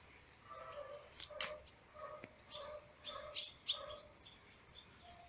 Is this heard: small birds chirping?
yes